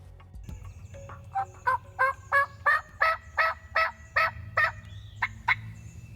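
Wild turkey toms gobbling from the roost in flat, open timber, a rapid series of about a dozen loud, rattling gobbles that overlap and answer each other, fairly close, with quiet woods between bursts.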